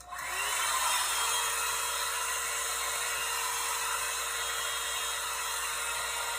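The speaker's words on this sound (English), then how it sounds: "I'm gonna put this on the base like this. I'm gonna turn it on first." Revlon blow-dry brush switched on at home for a salon-style blowout, running with a steady loud whooshing motor and airflow hiss that starts abruptly and holds constant throughout.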